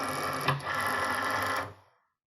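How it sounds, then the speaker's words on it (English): A Cricut Maker cutting machine pulling its cutting mat inside after the load button is pressed: a close, steady mechanical whir with a click early on, then fading to silence. "Press the load button to pull the mat into the machine."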